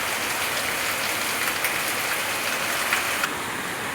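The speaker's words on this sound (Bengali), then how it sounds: "রাত্রিবেলায় দেখুন বৃষ্টি," Rain falling at night in a constant dense patter, with occasional crisp nearby drips standing out over the even wash, steady throughout and free of speech.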